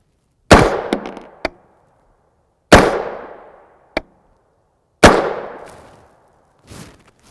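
Three sharp, loud gunshots from a CMMG Banshee 5.7x28mm pistol with an 8-inch barrel and radial delayed blowback, each with a decaying echo, fired a couple of seconds apart with small clinks of brass between, then a faint clatter.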